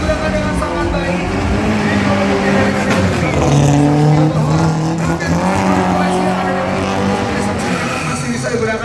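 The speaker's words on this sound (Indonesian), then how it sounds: "Please welcome Toyota Corolla RT104" A Toyota Corolla RT104 drift car at a show, its engine roaring and revving with tire squeal, loud and close, while an announcer speaks over it.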